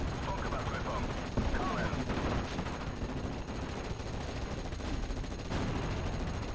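In the WWII strategy game Steel Division: Normandy 44, battlefield gunfire crackles continuously: dense machine-gun bursts and scattered rifle shots with occasional heavier booms, all at a fairly even, moderate level.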